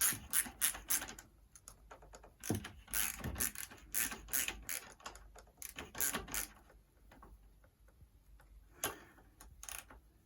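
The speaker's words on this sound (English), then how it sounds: "wind these adjusters in" Chain adjusters on the back wheel of a Yamaha YBR 125 being wound in, a series of close metallic ticks and ratcheting clicks in irregular bursts with short pauses between them.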